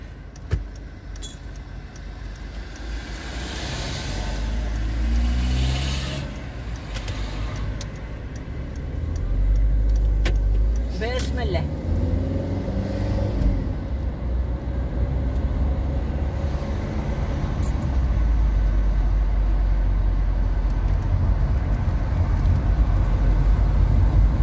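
A car drives along a quiet Sunday road toward the airport, its engine and tyre noise a steady close hum with a few rattles and clicks inside the cabin and a passing swell midway.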